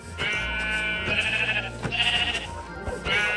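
Sheep in Minecraft bleat several times in a row, loud and close, each cry wavering and drawn out with short gaps between.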